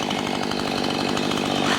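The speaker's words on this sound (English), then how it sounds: "I'm allowing the weight of the head of the chainsaw to do most of the work." A chainsaw cuts continuously for about two seconds, its engine snarling loud and close at a steady, rough pitch with no talk over it.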